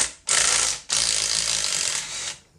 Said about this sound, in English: we're going to see if this the other 3/8 impact will take it off